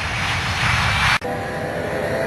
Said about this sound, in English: Just before 11 that evening, Bashkirian Airlines Flight 2937 leaves Moscow.